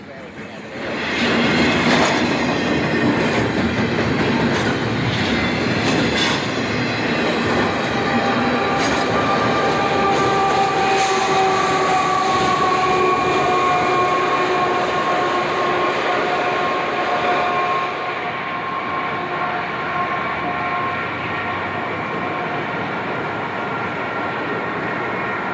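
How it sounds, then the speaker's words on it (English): A double-stack freight train rolls loudly and steadily through Truckee, with wheel squeal and a continuous grinding rumble that eases off slightly near the end. "An eastbound rolls through Truckee, while a westbound waits for a clear shot through the Big Hole."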